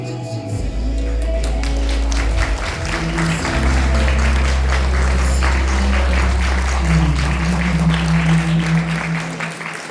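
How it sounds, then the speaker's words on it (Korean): Wedding guests in a hall applaud as the groom enters, with dense sustained clapping over a low background music hum throughout. "이제 떨고 있을 신랑이 입장합니다. 박수로 맞이해주세요."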